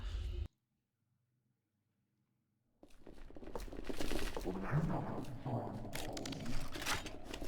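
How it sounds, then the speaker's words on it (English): Tank gun blasts from the ADACA video game open after a short silence, followed by a dense, loud run of booming shots and crunching impacts. "Sounds like a job for the tank gun."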